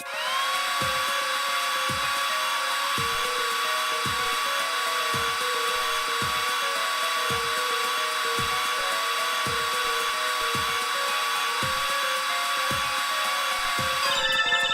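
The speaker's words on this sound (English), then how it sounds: "Press A to blast it with the dryer." A hair dryer blasts plaster in the Apollo Justice: Ace Attorney video game, a steady loud whine held throughout, with a regular ticking pulse about once a second underneath.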